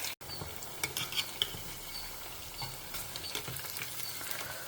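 Taro pieces frying in a pan in a home kitchen, a soft, steady sizzle with a few light stirring clinks, faint and close, with no talk.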